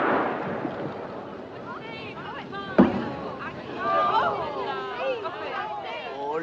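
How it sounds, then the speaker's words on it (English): Distress rockets fired from a ship in a Titanic film scene, one brief sharp pop under overlapping voices and crowd murmur, with people talking throughout. "She's firing rockets."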